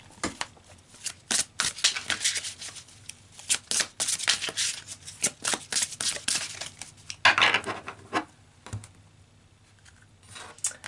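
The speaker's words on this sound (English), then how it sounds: "let's pull some more cards, Taurus, and get more information" Tarot cards being shuffled and pulled from a deck, a rapid riffling and flicking of card stock in bursts with brief pauses, close and crisp with no talking.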